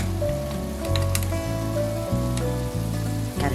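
A pound of lean ground beef sizzles steadily in a pan, a loud continuous crackle close up under background music, with a few faint clinks of a utensil.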